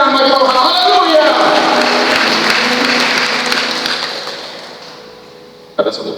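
A church congregation claps for God during a Pentecostal Sunday service in Pontianak, a dense wash of applause that swells then slowly fades, ending in near silence before a brief renewed burst.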